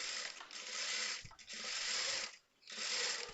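A sewing machine stitches blouse fabric in a rapid mechanical whirr that runs in short stretches, broken by two brief stops, close and moderately quiet.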